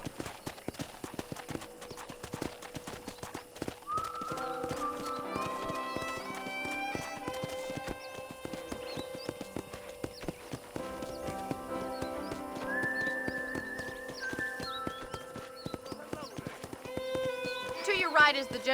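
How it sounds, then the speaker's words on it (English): Horse hooves clip-clop in the Red Dead Redemption video game as a horse gallops and runs, with a whinny, steady rhythmic hoofbeats throughout alongside game music and a speaking voice. "let's see if you can still ride a horse"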